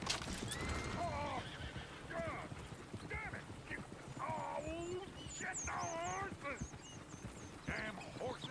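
A horse whinnies and neighs repeatedly amid hoofbeats and game ambience in Red Dead Redemption 2, with other animal calls mixed in, fairly close and clear throughout.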